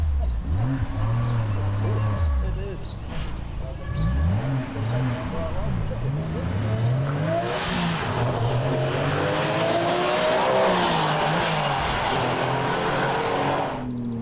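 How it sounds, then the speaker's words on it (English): A Porsche GT3 races along a Targa New Zealand tarmac rally stage, its engine revving hard and rising and falling through gear changes for about fourteen seconds, close and loud, with a voice speaking over parts of it. "So too for Brian Wareham and Tim Eddington in their Porsche GT3."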